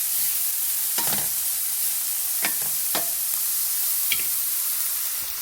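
Tofu tikka masala sizzles steadily in a hot pan, with a constant frying hiss broken by a few distinct scraping stirs of a utensil against the pan.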